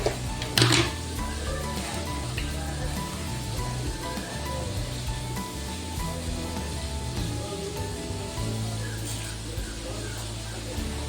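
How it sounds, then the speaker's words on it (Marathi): Mustard seeds crackle and pop in hot oil in a home kitchen, a scattered run of small sizzling spits with a louder burst near the start, while someone talks over it. "तर बघा इथे मोहरी तडतडली आपली"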